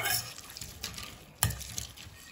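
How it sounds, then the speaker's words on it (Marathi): A masher presses drained, cooked goat blood in a pot, giving soft, sparse squelches and a couple of sharper taps against the vessel, quiet and close with gaps between strokes. "तर आता आपण हे स्मॅशरच्या साहाय्याने स्मॅश करून घेऊयात।"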